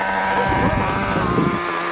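A Cummins-powered dually pickup on mud tires doing a burnout, a continuous loud engine roar with steady droning tone and some wind noise, no voices.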